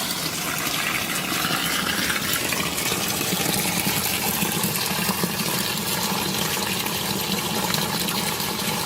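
Spring water in a village gushes and pours continuously nearby, a dense, even rushing splash with no pauses and no voices.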